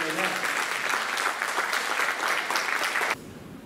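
Indoor audience at a Ramadan talk event in Aliağa applauding the mayor, a dense, steady burst of clapping that stops abruptly near the end.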